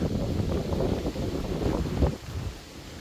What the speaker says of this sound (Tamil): இளங்காற்று வீசுதே